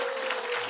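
Steady crowd applause at a memorial ceremony in Incheon for the singers and guitarist, many hands clapping loud and close, a dense even wash with no talk over it.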